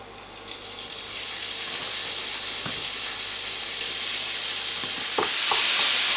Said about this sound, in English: Now we're going to fry this until it's nice and browned.